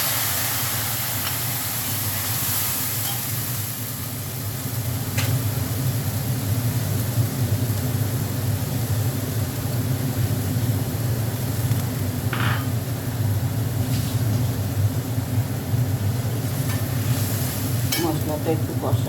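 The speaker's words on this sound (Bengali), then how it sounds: "দেখো একটু জিরে আর তেজপাতা ফোড়ন দিলাম, আর টমেটোটা দিয়ে দিলাম।" Cumin, bay leaf, tomato and ginger-cumin paste sizzle in a pan for a Bengali dish, a continuous close hiss and crackle with occasional stirring clinks, a voice talking faintly over it.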